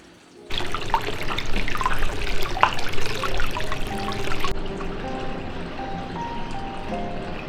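Hot-spring water runs steadily into an open-air bath at a seaside ryokan on Kujukuwan Bay in Ishikawa's Noto Peninsula, a close, continuous splashing trickle that fades to a quieter flow near the end.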